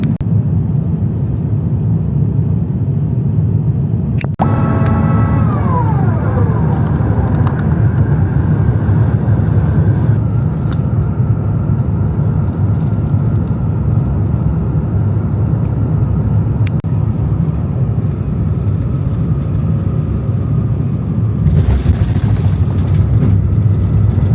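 Steady, loud, low engine roar fills a British Airways airliner cabin during descent toward Haneda, with a constant drone and no voices.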